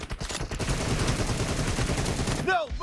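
M762 rifle gunfire in PUBG Mobile, a loud continuous automatic burst of rapid shots that stops abruptly near the end, followed by a brief voice.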